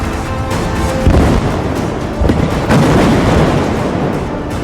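Heavy explosions from a US-Israeli bombardment of Tehran boom out in several loud, broad blasts over a constant rumbling roar, with no voices.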